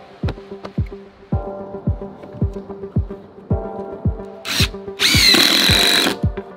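A power drill whirs in short repeated bursts with a rhythmic throbbing pulse, ending in a louder sustained high-pitched run, close and without talking.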